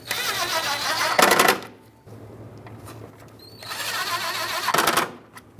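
A power driver tightens screws into a plastic panel on a 2011-2018 Ram 2500 during an AC condenser replacement, giving two loud close whirring bursts with quieter shop noise between them.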